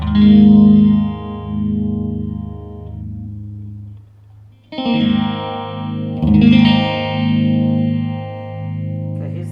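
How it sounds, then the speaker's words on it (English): Electric guitar chords with a phaser placed before an overdrive pedal, ringing out with a sweeping, swirling phase effect and a light overdriven edge, two strummed passages in a row. "Phaser before the overdrive."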